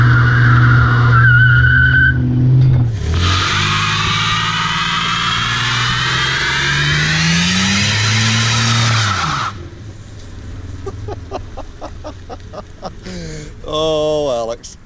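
A car does a burnout, its engine roaring loudly and its tires spinning and screeching in a long sustained squeal before it cuts off. Rattling and mechanical sounds and voices follow in the quieter stretch afterward.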